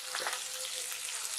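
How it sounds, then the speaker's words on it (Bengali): Spice masala with turmeric frying in a pan, a brief, even, hissing sizzle close up with no voices. "সমস্ত মশলাগুলো দিয়ে খুব ভালো করে ফ্রাই করে নিচ্ছি, বা মশলাটা একটু কষিয়ে নেব"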